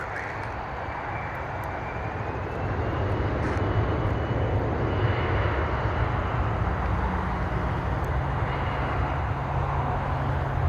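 An Egypt Air airliner landing on runway 05 at Toronto airport, heard from across the field as a steady, moderately loud jet roar that swells slightly and holds, with no talk.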